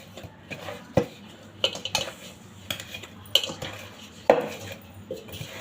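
A spoon stirring and scraping a dry-fruit kajjikayalu dough mixture in a metal vessel, with a series of irregular close clinks and knocks against the pot over a quiet background, no talk.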